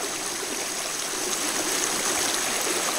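A river flowing steadily, its broadband rushing and gurgling water noise holding even and continuous throughout at moderate loudness, with no voices.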